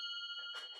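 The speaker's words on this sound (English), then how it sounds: "this is the bell from his schoolhouse" An old schoolhouse hand bell gives one bright ring with a sustained metallic tone, close and clear, followed by two quick soft shakes within a second.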